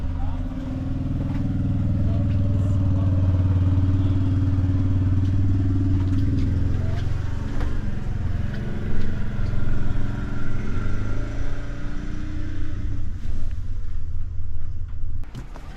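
A six-cylinder pickup truck pulling away while towing a hooked-up trailer, a steady low engine rumble building and then giving way to clattering road noise, fairly close.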